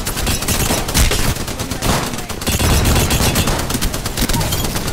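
The LMG Spitfire machine gun in Apex Legends firing long, rapid automatic bursts, loud and close, with other gunfire and brief pauses over five seconds of constant action.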